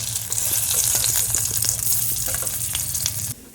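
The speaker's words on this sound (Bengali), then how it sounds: "এখানে পটল ভাজাটা হচ্ছে।" Pointed gourd frying in a pan, a loud continuous sizzle with crackling pops close up, fading slightly at the end.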